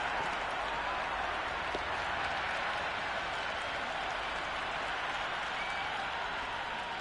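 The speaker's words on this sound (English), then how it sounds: "The crowd are loving every minute of this match." Steady crowd applause and cheering from a stadium in the cricket video game Cricket 26 after a six in a T20 match, a continuous loud wash of clapping sustained throughout.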